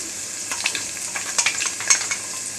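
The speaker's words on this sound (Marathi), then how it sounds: "जरा परतवून घ्यायचं" Curry leaves, coriander, cumin and fennel being sautéed and stirred in a pan for stuffed capsicum: a close, continuous sizzle broken by a few quick scraping stirs, with no talking.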